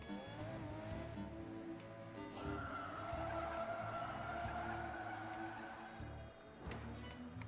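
A Tesla Roadster electric car races in Project Gotham Racing 4, its steady motor whine and tyre noise rising and holding loud over a game soundtrack, with a brief skid near the end.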